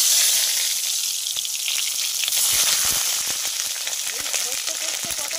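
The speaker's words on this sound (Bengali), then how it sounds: "আমি এবার পটলগুলো ভেজে নেব।" Sliced pointed gourd (potol) fries in hot oil for a mustard-poppy seed dish, giving a steady bright sizzle and hiss, with occasional clinks and stirring sounds from the pan.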